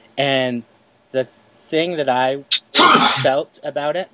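A sneeze bursts out around the middle of a casual conversation among several people, sharp and close, with talking before and after it.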